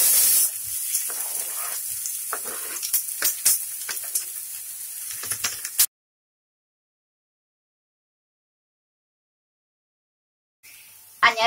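Minced garlic and bell pepper sizzle and crackle steadily in hot oil for several seconds, with bright frying hiss and occasional pops, then go quiet before sizzling resumes briefly.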